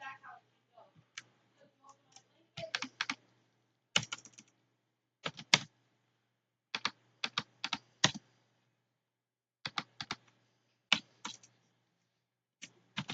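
Computer keyboard keys clatter in irregular quick clusters, with sharp close clicks separated by silent gaps, and a voice murmurs briefly at the start.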